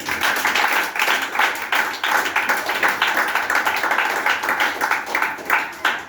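A church congregation claps together in praise of Jesus, giving a dense, steady round of applause with rhythmic bursts, fairly loud and continuous throughout.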